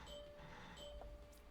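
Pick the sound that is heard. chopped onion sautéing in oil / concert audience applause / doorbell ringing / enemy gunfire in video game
doorbell ringing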